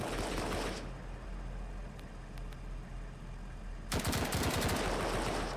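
Machine guns fire in the BRM5 video game: a dense, loud burst opens, then comes a quieter pause with faint pops, and then another sustained rattling volley runs to the end.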